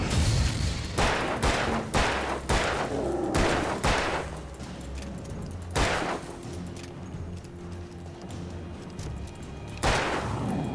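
Gunfire in the Alan Wake video game comes as a burst of sharp, rapid shots, then isolated reports spaced seconds apart, loud against a low ambient game background.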